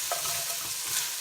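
Chopped onion sweats in a pot with a tiny pinch of salt, a brief, soft, constant frying hiss with faint stirring and no voices.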